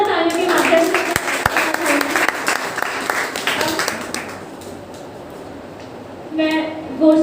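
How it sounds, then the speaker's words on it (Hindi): An audience at a Kshamavani seminar held by a Jain pathshala in Usmanpur, Delhi, claps loudly after a student's expressive presentation. The applause fades out midway, and a voice starts speaking near the end. "एक बार जोरदार तालियों के माध्यम से"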